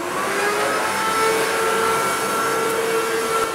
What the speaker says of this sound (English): I want to watch you guys vacuum because I bet you it's really funny.